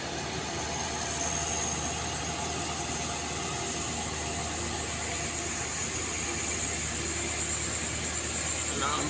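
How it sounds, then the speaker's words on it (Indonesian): A truck engine roars as the vehicle pulls away, a steady, broad rumbling drone with a hissing, noisy edge that holds at a constant level the whole time, fairly distant. "Nampak suara raungan dari mesin."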